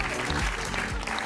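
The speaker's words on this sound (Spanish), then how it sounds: "Un aplauso, profe, gracias." Steady applause from an audience on a comedy talk show, a close, dense burst of many hands clapping that carries evenly through the brief moment.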